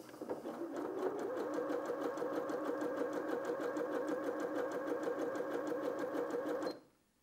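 A Janome M200QDC sewing machine stitches steadily with a fast, even mechanical chatter, running continuously and close for about six and a half seconds before stopping abruptly.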